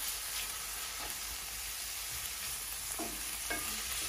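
Homemade coconut green seasoning fries in a pan over low to medium heat, a soft constant sizzle with occasional scrapes of stirring, heard close and alone.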